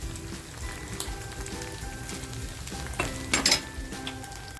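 Pieces of squid fry crispy in hot oil with a steady bubbling sizzle like light rain, along with a few scrapes and clinks of a spoon stirring in the pan.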